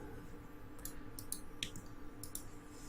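Computer mouse clicks while editing in Premiere Pro, a handful of sharp, light taps spaced irregularly over a faint steady background hum.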